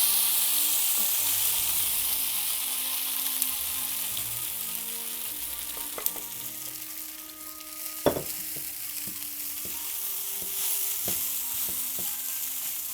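Rice flakes for upma being stirred in a hot oiled pan: a steady, close sizzle with occasional sharp spoon scrapes and clinks, no voices.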